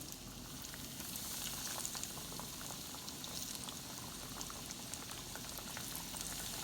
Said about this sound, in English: Let them fry 3 to 4 minutes on each side.